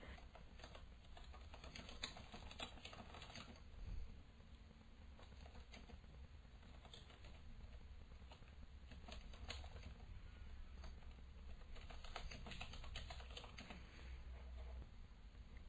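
Quick, soft clicking of fingers typing on a computer keyboard, continuing steadily for several seconds with no talk over it.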